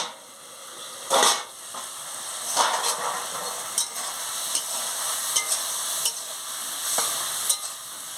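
Okra curry (dherosh chorchori) frying and being stirred in a pan: a steady sizzle runs throughout, broken by several scraping spatula strokes, louder at one point early on, with no talking.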